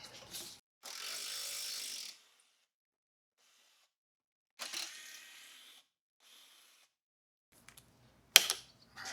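A ratchet removes 10mm bolts from the headlight of a 2004-2008 Ford F-150 pickup. It gives short bursts of close, rapid clicking, separated by quiet pauses, with a sharp tap near the end.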